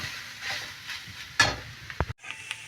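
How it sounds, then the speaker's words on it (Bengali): Grated carrot for carrot halwa fries slowly in a pan on low heat, giving a faint, soft sizzle broken by a few scraping stirring strokes and clinks, with no talking. "ভাজা হয়ে বেশ নরম হয়ে গেছে গাজরটা"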